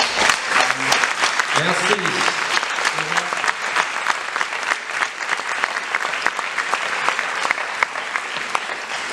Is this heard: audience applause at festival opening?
yes